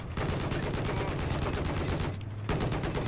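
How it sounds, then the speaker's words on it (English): Enemy gunfire in Battlefield 4: a dense, continuous barrage of rapid automatic shots at close range that briefly thins before picking up again, with no talk over it. "Oh, we got enemies shooting in."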